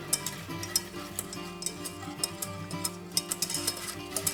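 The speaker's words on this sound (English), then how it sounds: "I'm just gonna whisk this together." A whisk clatters quickly against a bowl while a marinade is mixed. The light, rapid ticks come steadily and close up, over quiet background music, with no speech.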